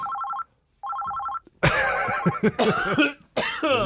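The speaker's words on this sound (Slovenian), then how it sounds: "tlele je telefonski klic za vas" An electronic telephone rings in two quick trilling bursts, close and clear, followed by harsh repeated coughing and throat clearing.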